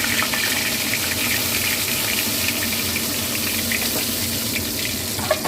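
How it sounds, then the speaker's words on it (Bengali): Fish pieces fry in a pan of oil with a dense, even hiss that stays steady and moderately loud throughout, with no voices over it. "এই মাছগুলো এবার ভেজে নিচ্ছি আমি।"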